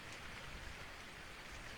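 Steady rain pours down in a fantasy audio drama scene, a dense continuous hiss of falling drops with no pauses, even and moderately loud throughout.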